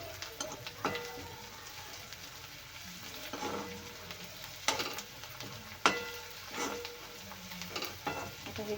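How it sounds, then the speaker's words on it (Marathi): Ginger garlic paste frying in hot oil in a pan, a soft continuous sizzle with scattered sharper crackles and stirring scrapes, fairly quiet and close, no voices. "तर हे पण फ्राय करून घेऊया तेलामध्ये हे आलं लसूणची पेस्ट पण घाला"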